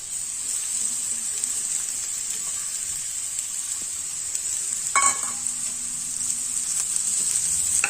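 Freshly grated coconut stir-fried with onion in oil for a Malvani masala gives a steady close sizzle with scattered scrapes of a spoon and one sharper clatter midway, no voices.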